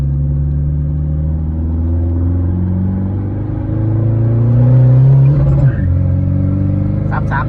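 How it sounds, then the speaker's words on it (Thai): A remapped Isuzu D-Max Euro 3 pickup engine pulls hard through a couple of gears, a loud close drone rising and dropping at each shift, with brief talk near the end. "เอาลองยักสองสามเกียร์"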